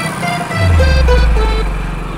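A motorcycle engine runs close by while a rider travels toward a highway, a low steady drone that swells after a brief start and holds loud and rough to the end, with no talk over it.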